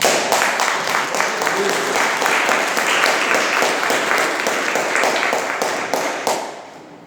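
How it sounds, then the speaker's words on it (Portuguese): A church congregation claps hard in a fast, rhythmic beat, a loud, even pulse of many hands that carries steadily before trailing off at the close. "Você pode assentar, desocupar as suas mãos e aplaudir os céus bem forte."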